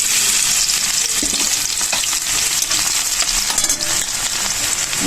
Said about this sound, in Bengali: তেল গরম হয়ে গেছে। এখানে দিয়ে দেবো থেতো করা রসুন